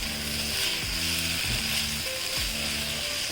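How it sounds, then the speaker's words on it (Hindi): Chicken and onions frying together in a pan make a constant close sizzle, with a low, recurring mechanical hum beneath it. "अब मैं चिकन को अच्छे से इसमें फ्राई कर रही हूँ, साथ ही ये प्याज भी हमारा अच्छे से सौते हो जाएगा"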